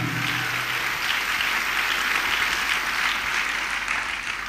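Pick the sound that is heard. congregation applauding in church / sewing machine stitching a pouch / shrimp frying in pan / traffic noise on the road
congregation applauding in church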